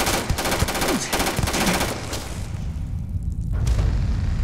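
A firearm fires in the Starfield video game: rapid, loud bursts of automatic gunfire crackle early on, then give way to heavier booming blasts and a rumbling roar near the end.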